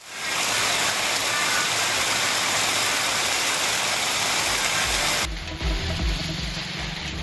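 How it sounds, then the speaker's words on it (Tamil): Sudden heavy rain pours down in Thiruthuraipoondi, Tiruvarur district, Tamil Nadu, as a loud, dense, continuous roar. The sound then cuts to a quieter, lower rumbling patch. "திருத்துறைப்பூண்டி பகுதியில் திடீரென மழை பெய்தது"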